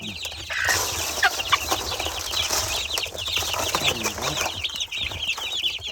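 Chicks being fed cluck and chatter continuously at close range, with a dense flock of high peeping calls and occasional wing flaps throughout.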